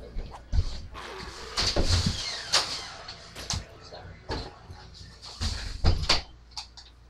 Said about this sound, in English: what the hell is kicking my door?